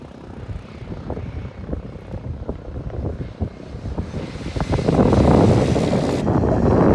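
A propeller airplane engine grows steadily louder as the aircraft approaches and passes close by, with gusty wind buffeting the microphone.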